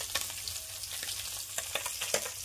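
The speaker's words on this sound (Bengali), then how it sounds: "বাঁধাকপি ভাজি করবো" Cabbage frying in a pan sizzles steadily and closely, with scattered scraping and clicking from stirring throughout.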